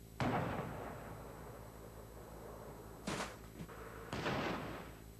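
Two or three sharp, loud bangs, the first the largest, from an electrically fired charge equal to about a stick and a half of dynamite set off in a crash test, each followed by a rumbling decay, with no talk.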